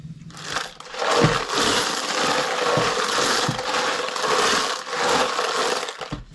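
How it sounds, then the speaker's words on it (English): Brass rifle cartridge cases rattled and shaken together in a container after a coating of spray resizing lube, a continuous dense metallic clatter with jingling bursts, close and fairly loud, no talking. "Shake them around for a little bit, make sure all that lube kind of gets on all the cases."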